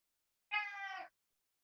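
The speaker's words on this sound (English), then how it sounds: "No, that's my cat." A house cat meows once, a clear drawn-out call of about half a second, heard alone and close in an otherwise quiet room.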